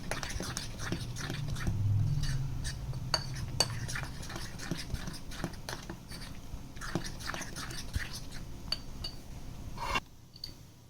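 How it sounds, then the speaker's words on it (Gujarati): A spoon stirring lemon-flavoured Eno into dhokla batter, repeated soft clicks and taps against the bowl over a low rumble, close and continuous, with a quiet drop-off near the end. "1 પાઉચ નાખવાનું છે અને બરાબર આપણે મિક્સ કરી દઈશું."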